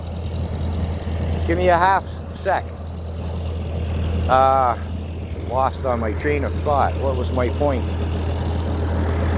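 A Ford 8N tractor engine idles steadily while warming up, a constant low rumble running through the whole clip from a short distance, with a person talking over it.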